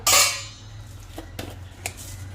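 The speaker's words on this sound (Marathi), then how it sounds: "झाकण काढून घेणार आहोत आपण आता" A lid comes off a pan of healthy instant veg dosa with one sharp, close metallic clatter that rings briefly, followed by a few faint clinks over a low steady hum.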